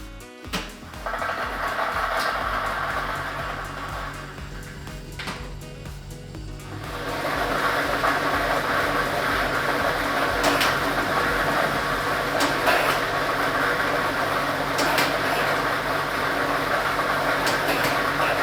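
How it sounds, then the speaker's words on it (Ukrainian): A lottery drawing machine starts up and churns a set of numbered balls. After a short quieter stretch it settles into a steady, loud whirring roar with faint rattling on top, heard alone without talk. "І ми вмикаємо лототрон"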